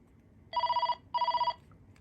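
A Panasonic KX-TCM422 cordless phone rings on its base in two electronic trilling bursts of about half a second each, separated by a short pause, clear and close over a quiet background.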